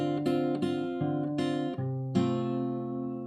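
Acoustic guitar in standard tuning playing chords from a song, several strummed strokes in quick succession, then a final chord left ringing out, close and clear with no talking.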